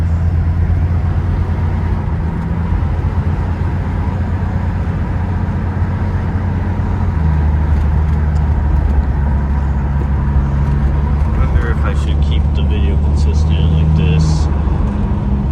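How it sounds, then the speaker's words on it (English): A 1974 Plymouth Duster on the road, its engine giving a steady low rumble with a shift in tone around midway, road noise throughout, and a faint voice in the background. "Alright, it's time to go on a drive."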